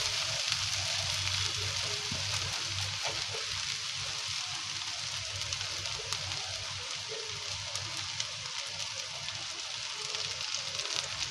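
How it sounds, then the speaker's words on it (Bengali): Ghee hits a hot pan and crackles in a steady, dense sizzle, fairly quiet and close, continuing evenly throughout with no voices. "ঘি দিয়ে দিলাম"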